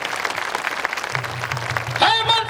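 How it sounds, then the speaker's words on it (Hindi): Crowd at an outdoor political rally in Jharkhand claps to welcome a candidate, a sustained spatter of applause over a low hum, with a shout or voice rising over it near the end. "जोरदार ताली ते बो स्वागत तैया"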